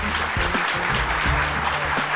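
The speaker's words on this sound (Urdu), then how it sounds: "آئیے بھرپور تالیوں سے استقبال کیجیے" An audience at the Jashn-e-Rekhta literary festival gives a guest a warm welcome with dense, steady applause that holds at an even level from start to finish.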